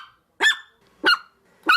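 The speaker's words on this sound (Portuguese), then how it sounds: "você sabe que é o som de um cachorro" A dog barks three times in even succession, each bark short, loud and close, with brief silent gaps between them.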